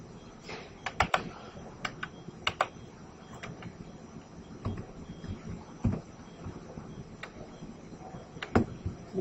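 Keys clack on a computer keyboard while SQL values are typed, irregular bursts of light taps over a low room hum, close and moderately quiet.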